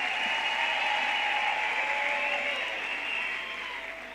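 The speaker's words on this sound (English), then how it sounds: "Can we give them a big round of applause?" Graduation ceremony audience applause in a large hall, a steady crackling wash of many hands clapping from a distance that slowly fades toward the end.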